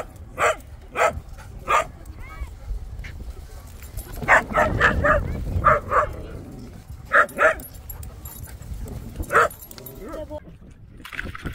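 A dog playing rough on an Australian beach lets out repeated short barks, yips and whimpers in bursts, close by, mixed with people talking and sloshing water.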